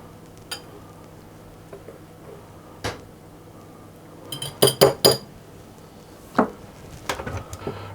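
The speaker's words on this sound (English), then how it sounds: "I'm going to give those a stir around with a whisk just to get those combined." A whisk stirring flour, ginger and baking powder in a bowl, with a few sharp clinks of metal against the bowl that cluster into a quick run of taps partway through, close and otherwise quiet.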